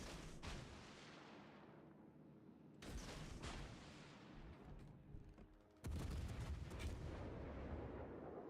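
Heavy naval guns from an enemy warship boom across the water in a naval combat game, a series of deep, rumbling salvos with lingering roar between them, quiet overall and without talk.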